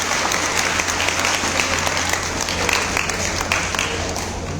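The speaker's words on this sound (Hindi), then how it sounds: "एक बार और जोरदार ताली से बता" Loud clapping from a seminar audience, a dense, continuous roar of many hands at even strength throughout, with no pauses or voices.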